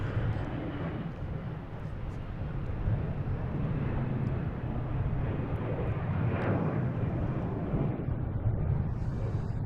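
A Delta airliner rolls along the runway at Boston Logan International Airport, a steady distant jet roar with no distinct peaks, faint and continuous throughout.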